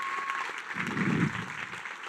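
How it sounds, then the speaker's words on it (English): An audience at an F1 in Schools UK national finals awards ceremony applauds partners and sponsors, a steady wash of clapping that swells briefly mid-clip, with a faint tone at the start. "Can we give all those partners and sponsors a big round of applause?"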